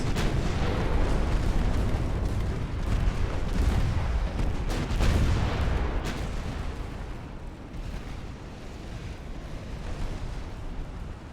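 Naval battle in Ultimate Admiral: Dreadnoughts, with torpedoes and ship gunfire: dense rumbling booms and blasts layered together, strongest early, then fading to a softer rolling roar.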